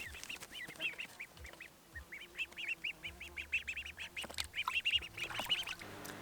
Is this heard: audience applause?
no